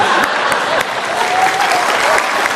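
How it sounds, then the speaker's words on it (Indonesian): A studio audience at a televised talk show claps loudly and steadily for the whole short stretch, a dense wash of applause close to the microphone. "Sekali lagi tepuk tangan, luar biasa."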